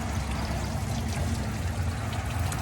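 Clean water gushes steadily from a heater core hose during a back flush on a Silverado, a constant rushing, splashing flow with no pauses or talk.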